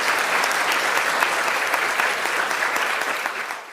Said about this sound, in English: So if we could give them a round of applause for taking the time to do that.